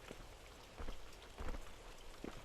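Steady rain falls across a dim, permanently rainy land in the video game Primal, a constant wash of patter with a few slightly louder splashes, heard alone at low level.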